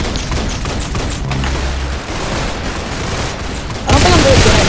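Shotgun blasts and gunfire in the Roblox-style game Arsenal crack over a dense, noisy game mix while a voice talks, ending in a louder burst of fire.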